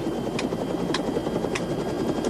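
A helicopter's rotor thumps steadily and loudly over a continuous engine drone, heard close from inside or near the aircraft, with no talk.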